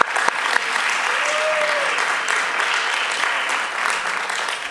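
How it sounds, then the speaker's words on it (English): An open mic audience applauds steadily, with dense, even clapping from a crowd that holds for several seconds at close range and no talk over it. "Just a round of applause for everybody that came up"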